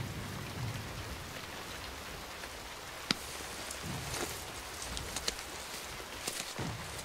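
Steady rain pattering on a surface, a continuous wash of drops with a few sharper nearby splashes standing out; no voices.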